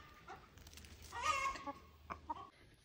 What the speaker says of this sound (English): take note of this beautiful rooster, and also take note of the shape of these ladies